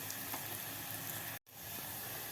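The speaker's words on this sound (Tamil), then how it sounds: "சரி, வெங்காயம் கொஞ்சம் வதங்கட்டும்." Onions sautéing in a pan, a soft, steady hiss of sizzling with faint crackles, quiet and continuous apart from a brief dropout midway.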